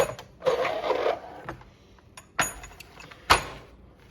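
Drawers of a metal mechanic's tool chest slide open and shut, giving several sharp metallic scrapes and clunks at uneven intervals, close and fairly loud with quiet gaps between.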